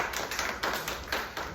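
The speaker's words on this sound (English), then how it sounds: "That's a good sign you guys clapped right on cue." Audience applause at a live comedy talk in Lexington, Massachusetts: a short burst of scattered hand claps, fairly soft and slightly distant, with no voices over it.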